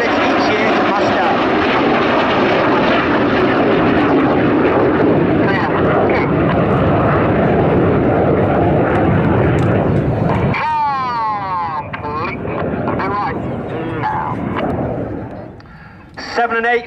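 Red Arrows display jets roll through rollback manoeuvres at the RAF Cosford Air Show, a loud continuous jet roar filling the first ten seconds, then dropping away to a fainter rumble with crowd noise and a voice over it.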